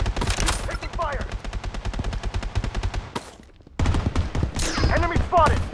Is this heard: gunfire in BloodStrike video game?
yes